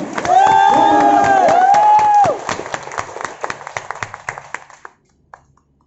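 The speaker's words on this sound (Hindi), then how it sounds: "जोरदार तालियां सर के लिए।" Audience applause and cheering at a talk, loud clapping with raised voices and a whooping cheer for a couple of seconds, then thinning to scattered individual claps that die away into quiet.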